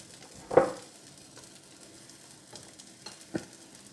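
Spring onions go into a hot pan for Nigerian jollof rice, giving one brief loud sizzling burst followed by a faint, steady frying hiss with a few soft stirring taps.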